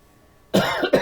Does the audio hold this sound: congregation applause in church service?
no